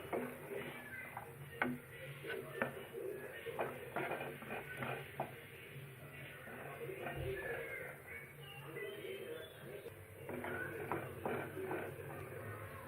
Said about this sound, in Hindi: अब हम इसमें मटर डालेंगे।